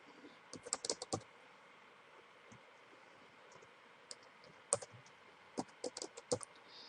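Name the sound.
typing a password on a computer keyboard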